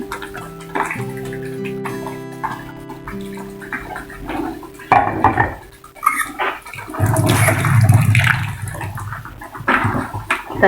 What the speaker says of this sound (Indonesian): Terus setelah itu kita masukin daging tadi ya bun, daging 1 kilo tadi kita masukin ya bun.